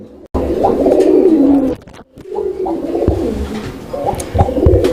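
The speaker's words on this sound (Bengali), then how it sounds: "এই পেয়ারের নটটাকে আমি ডাকাই দেখাচ্ছি আপনাদেরকে আপনারা দেখতে পাচ্ছেন খুব সুন্দর ডাকে" A male Raj Golla pigeon coos close by in loud, throaty, rolling phrases, with a brief break between calls.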